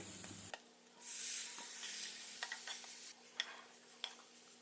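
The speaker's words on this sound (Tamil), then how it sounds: "நம்ம நல்லா பொன்னிறமாக வர வரைக்கும் வதக்குறோம்" Quiet sizzling and hissing of onions and tomatoes sautéing in a pan for fish curry, with occasional scraping stirs and soft ticks, no voices.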